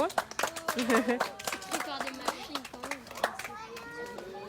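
Group of children clapping for themselves at an eco venue, scattered applause mixed with lively kids' chatter and shouts, close and busy.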